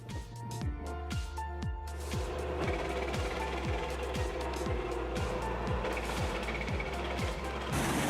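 Firewood processing machine running with a fast, regular mechanical clatter like a ratcheting gear, repeating rhythmically over a steady low machine hum, loud and continuous.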